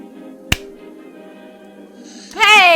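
A single sharp hand clap, the inaugural clap, cracks out once over a steady low hum, followed a couple of seconds later by a bright, warbling rising tone.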